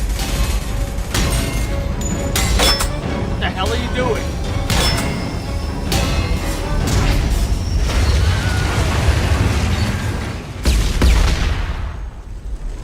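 Gunfire and explosions from a shootout in the Mass Effect video game. Sharp, repeated shots crack and boom beneath loud shouting voices and dense battle noise throughout.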